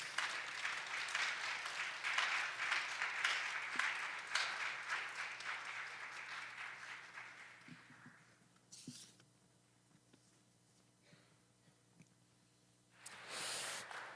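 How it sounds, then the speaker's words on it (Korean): Church congregation at a sixth anniversary worship service applauds warmly for the visiting pastor, steady clapping that fades out over about eight seconds, followed by a quiet room with faint shuffles. "우리 감사의 마음을 담아서 따뜻한 박수로 우리 모시면 좋겠습니다"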